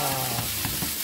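A steady, loud sizzle of shrimp frying in a hot oiled pan, crackling close up with brief stirring scrapes and no voices.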